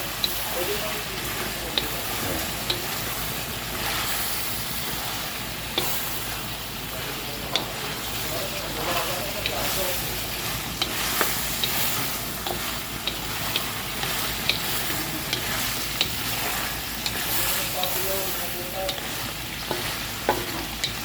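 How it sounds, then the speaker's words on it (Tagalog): Soy sauce sautéing in a pan for duck adobo in coconut milk, a steady close sizzle with repeated scraping stirs and periodic clicks of a utensil against the pan, a voice talking intermittently beneath. "makikita niyo mga boss yung toyo ay nagigisa"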